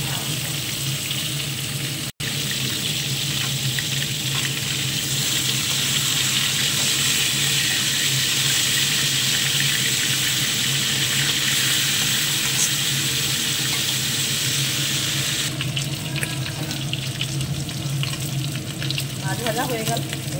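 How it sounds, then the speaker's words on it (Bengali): Katla fish, a local freshwater carp, frying in a pan with a steady, loud sizzle that carries on without a break, plus a brief clatter and some faint kitchen sounds near the end. "মাছ ভাজা হয়ে গেল বন্ধুরা"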